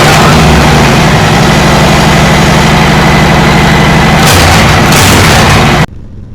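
A motorcycle engine runs loud and close, a steady throbbing rumble with a brief rev near the end before it cuts off abruptly to quiet background noise.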